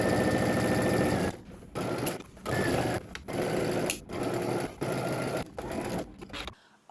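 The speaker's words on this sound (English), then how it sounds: "we're going to go ahead to the sewing machine" A home sewing machine stitches a pants inseam in several short runs, each burst of rapid whirring stopping and starting again, close and loud.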